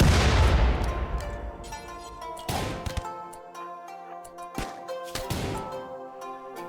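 Gunfire in a RimWorld video game battle: sharp, loud shots and bursts arrive in irregular clusters, each crack ringing out with a short tail.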